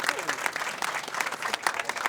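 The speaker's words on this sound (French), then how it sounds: "Je vous demande d'applaudir pour ces gens-là, s'il vous plaît." Audience applause at an outdoor community donation event in Tambacounda, Senegal, a brisk, uneven patter of many hands clapping close by, with voices faintly mixed in.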